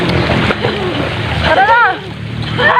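A person jumps into a resort swimming pool in Tayabas, Quezon, making a loud, close splash followed by sloshing water, with excited voices calling out around it.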